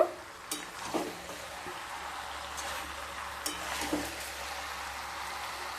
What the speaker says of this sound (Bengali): আবারও খুব ভালোভাবে মিশিয়ে নেব।